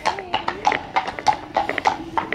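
Hooves clop in a steady walking rhythm, close and fairly loud, with faint voices in the background.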